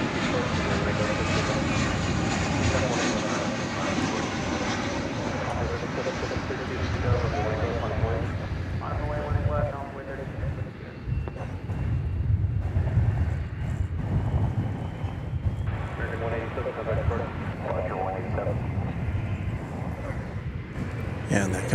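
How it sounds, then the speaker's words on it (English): An American Airlines Boeing 737-800 arriving at DFW airport after a flight from Guadalajara, landing on runway 18 right, makes a loud, continuous jet engine roar with wind buffeting the microphone for the whole stretch. "American Flight 387 arriving from Guadalajara in Mexico."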